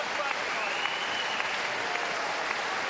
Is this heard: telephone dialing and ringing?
no